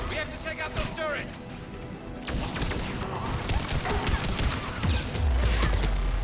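Turret gunfire crackles in the video game Mass Effect 3, with rapid bursts of shots and impacts running through the battle under a steady layer of game noise and effects.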